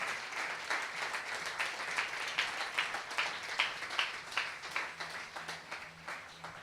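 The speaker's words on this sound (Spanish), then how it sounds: "Vamos, dar un aplauso más fuerte al Rey." A church congregation claps in unison, a rhythmic pulse of many hands beating roughly twice a second, steady and moderately distant, fading slightly toward the end, with no distinct speech.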